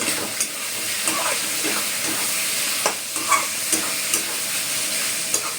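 Food sautés in a covered pan with a steady hiss of frying, broken by a spoon's intermittent scrapes and knocks against the pan, close and without voices.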